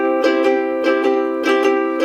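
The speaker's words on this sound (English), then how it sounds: "I'll exaggerate the swing so you can hear it." Ukulele strummed in an exaggerated swing rhythm, each upstroke falling close after the downstroke, giving a lopsided long-short pattern of bright chordal strums, close and alone.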